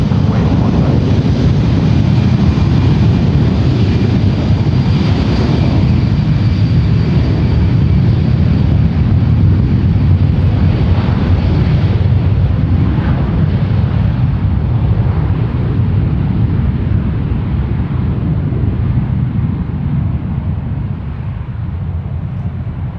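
A Delta airliner takes off from runway 1 right at San Francisco International Airport, a loud, steady broadband roar that holds for the whole stretch and eases slightly toward the end, with no voices over it.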